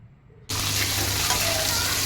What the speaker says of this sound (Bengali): টুকরো টুকরো করে আমি ভেজে নিচ্ছি